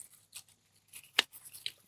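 Garden shears cut a dead plant out of a garden bed: a few quiet, separate snips and crunches, the sharpest one near the middle, set against near silence.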